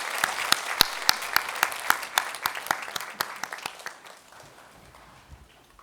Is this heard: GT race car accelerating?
no